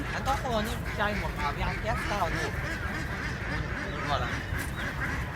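Ducks and geese honking and quacking steadily at Karachi Safari Park, a busy flock close by, with people talking over the calls throughout.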